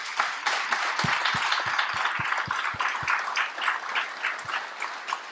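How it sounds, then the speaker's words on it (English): An audience applauds panelists after a healthcare panel discussion, with steady mid-sized clapping throughout and a few louder individual claps standing out near the start. "if we could give our panelists a round of applause"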